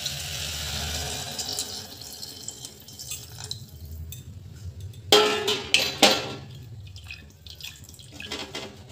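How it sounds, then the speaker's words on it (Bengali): Water poured into a cooking pot for moong dal with bottle gourd, a soft trickling stream followed by a few louder splashing, clinking bursts close by, with no talk. "এবার পরিমাণ মতো জল দিয়ে দিলাম।"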